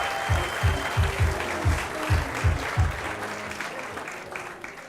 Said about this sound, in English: One more round of applause for Jack, everyone.